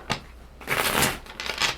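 A deck of tarot cards is shuffled quickly by hand, a few brisk riffling bursts of papery flutter, close and fairly loud, with no voices.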